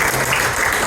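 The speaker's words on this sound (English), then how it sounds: "Give Debbie a big round of applause" Loud, dense applause from a corporate dinner audience, a continuous close wash of clapping hands that runs without a break and with no talk over it.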